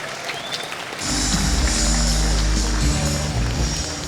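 Applause breaks out at a fighting event, a broad wash of clapping that swells in suddenly and holds steady, mixed with a low rumbling hum underneath.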